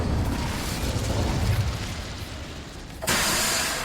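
Incendio fire spell blast in Hogwarts Legacy, a broad roaring burst that rumbles for about three seconds, then a second sharp whooshing blast near the end.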